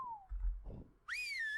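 A short, clear whistle used as the attack whistle in the video game Ark rings out alone at the end, with a descending tone heard faintly at the start.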